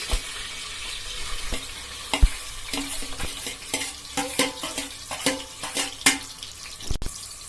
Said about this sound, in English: Now I am going to put in the chopped onions, that is 2 big chopped onions.